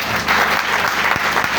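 Church congregation applauding together in a steady, dense burst of clapping that fills the whole moment, loud and close, with no talk over it.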